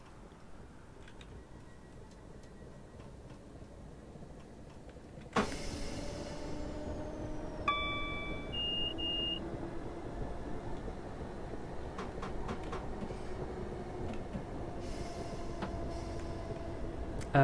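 A train in Train Sim World 2021 pulls away from a station in suburban Glasgow, with a sudden onset of steady motor hum and rising tones, then a few sharp clicks and rumbling as it gathers speed.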